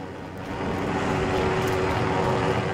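A helicopter flies nearby in a video game, a steady engine and rotor drone that swells slightly and holds at a constant level throughout.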